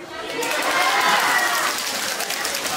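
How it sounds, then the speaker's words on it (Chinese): An audience at a university New Year party in Hunan breaks into applause, a broad wash of clapping that swells and then holds steady, fairly close and full. "掌声有请"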